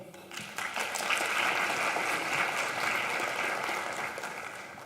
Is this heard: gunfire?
no